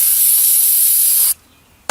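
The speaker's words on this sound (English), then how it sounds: "I'm gonna spray starter fluid here" A loud, steady hiss of starter fluid sprays from an aerosol can onto an Audi Q7 3.6 VR6 engine during a rebuild for about a second, then cuts off abruptly, followed by a brief short spurt.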